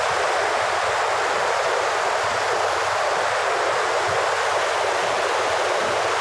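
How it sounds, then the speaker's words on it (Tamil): Steady river water rushing past a forest bank, a continuous broadband wash that stays even and close throughout, with no voices over it. "தண்ணி ஓடுற சவுண்டு எப்படி இருக்கும்னு நீங்கள் கேளுங்க"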